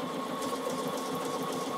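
A Bernina sewing machine stitches on its own at a steady pace, giving off a fast, even mechanical whir and clatter that stays at constant volume with no talking.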